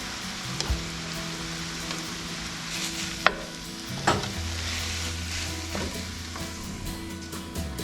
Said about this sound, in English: We're just going to stir this couple cups of basil until it wilts, which is not going to take very long